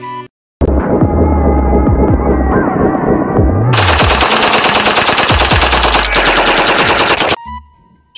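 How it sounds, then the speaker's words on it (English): A toy Uzi gun fires a loud, continuous electronic rattle of rapid shots with a buzzing hum that runs for several seconds and then cuts off abruptly. "Uzi gun!"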